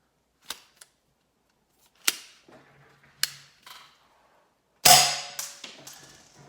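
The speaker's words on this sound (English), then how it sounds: "I'm gonna have her load it up with a pellet, shoot it off in the trap." Umarex Browning Buck Mark air pistol fires a pellet into a trap: one sharp louder crack near the middle, set among a few fainter clicks and snaps of handling, close and otherwise quiet.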